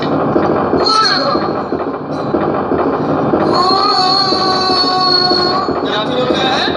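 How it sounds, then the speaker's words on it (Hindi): A nearby train on the Jaynagar to Darbhanga line rumbles past with loud, high squealing wheels that rise and fall over several seconds, steady and close. "वो रेलगाड़ी है, रेलगाड़ी।"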